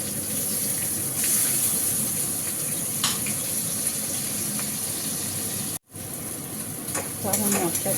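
Spice paste fried and stirred in a pan, with steady sizzling and scraping stirs running throughout, a brief break near the end, then more stirring and bubbling.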